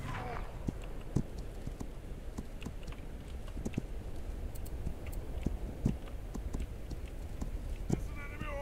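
Several horses move off together at a walk, hooves clip-clopping in an uneven, overlapping rhythm over steady outdoor background noise, with people talking nearby.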